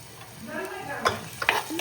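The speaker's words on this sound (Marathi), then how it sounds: "मसाला खूप छान प्रकारे भाजला गेलेला आहे." Onion masala gravy with garam masala, garlic paste and salt being stirred and roasted in a pan for pot-cooked chicken: a low sizzle under brief scraping strokes of a spoon, close by, with no talking.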